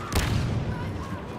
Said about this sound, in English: Chuck a grenade there.